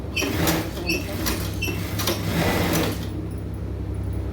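Close, loud sewing machine stitches invisible piping onto a garment, a continuous buzzing run lasting about three seconds before easing off, with no talking.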